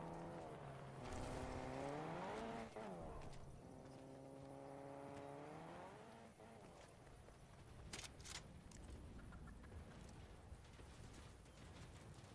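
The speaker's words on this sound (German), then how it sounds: "Oh, Auto kommt." A car drives past in Fortnite, its engine rising with gliding harmonics that swell and fade over several seconds, with game effects and sharp clicks around it.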